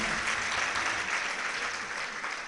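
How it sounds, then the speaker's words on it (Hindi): A seated audience bursts into a brief, loud, dense round of clapping that holds steady throughout. "एक बार जोरदार तालियां बजाई।"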